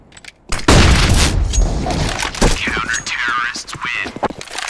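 Flashbang grenade detonating in Counter-Strike: Global Offensive, a sudden loud bang followed by dense crackling bursts of gunfire and shrill ringing, with brief voice callouts mixed in.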